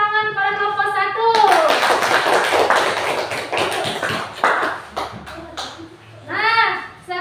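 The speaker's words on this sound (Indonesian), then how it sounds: "Beri tepuk tangan pada kelompok 1." Children in a classroom clap for a group of classmates, a burst of lively, fast overlapping hand claps breaking out after an adult voice and fading as another voice speaks near the end.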